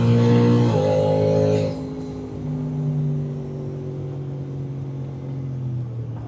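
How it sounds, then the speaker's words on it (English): A twin turbo Ford F150 Raptor pulling hard in fourth gear at 7 psi boost, its engine note a steady loud whirring drone that drops after a shift and then keeps rising under load. "Let's do a little fourth gear pull, 6 psi."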